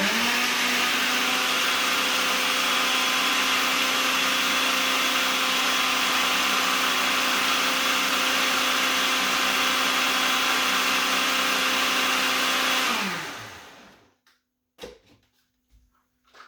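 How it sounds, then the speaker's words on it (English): A kitchen blender whirs loudly at a steady pitch, mixing gluten-free chocolate cake batter with peanut butter, then spins down and stops near the end, followed by a few faint knocks. "So we're just going to blend this together"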